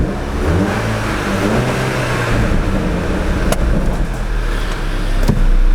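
A repaired Audi TT engine idling smoothly and steadily close by, with a continuous even drone and faint mechanical whir, no voices.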